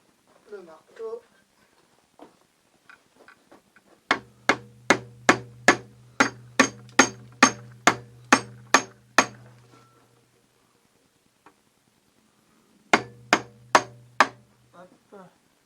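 A hammer strikes metal while a sliding gate latch is being made, a close run of about a dozen sharp, evenly spaced ringing blows, then a pause and a shorter burst of quick hits.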